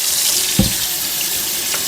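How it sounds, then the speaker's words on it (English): Tap water runs steadily into a kitchen sink as hands and a cutting board are rinsed, a constant close wash with a brief splash near the middle. "I'm going to rinse my hands and this board."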